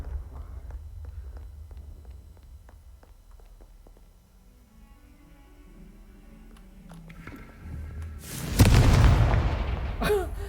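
Quiet ticking and faint movement, then a sudden loud booming blast from a Confringo spell in Hogwarts Legacy near the end that rumbles on before fading slightly.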